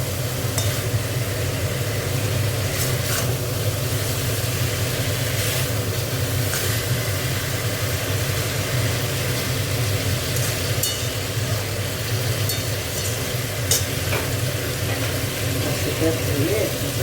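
Potatoes and small tangra fish frying in a cooked-down spice paste give off a steady, even sizzle, with occasional stirring clicks and a low hum running underneath.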